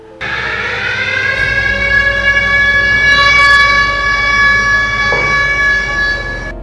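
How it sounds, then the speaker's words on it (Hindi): A warning siren like those used as an air-raid alert in wartime rings out loud and steady, a sustained wailing tone holding for several seconds with no voices over it. "चेतावनी सायरन सुनाई देता है"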